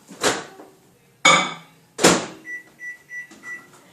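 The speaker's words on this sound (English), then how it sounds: "You can throw it in the microwave for about 35 seconds, just enough to melt it." A few sharp clunks like a microwave door and buttons, then a short series of evenly spaced electronic beeps, close and fairly loud.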